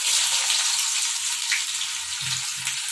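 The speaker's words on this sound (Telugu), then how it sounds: "నూనె వేడైంది. ఇప్పుడు ఉల్లిగడ్డలు వేసుకోవాలి." Onions hitting hot oil for a Telangana-style cluster bean curry, giving a steady, close hiss of frying with a few soft stirring bumps underneath, no talking.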